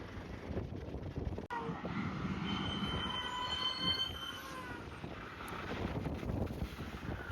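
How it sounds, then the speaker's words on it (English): A JCB Fastrac tractor on a farm road lets out a high, wavering squeal from its brakes as it slows to a stop, heard at a distance under steady wind and rumbling background noise. "Sounds like his Fastrac's crying as it stops on the road."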